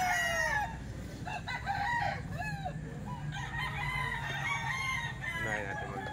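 Roosters crow repeatedly, overlapping one another, with clucking chickens and a busy farmyard murmur underneath.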